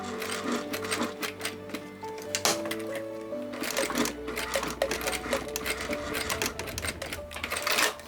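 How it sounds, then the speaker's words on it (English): A sewing machine stitches back and forth over a strap fitted with swivel hooks, its needle running in quick loud bursts with short stops between passes. "Try to sew over there a couple times."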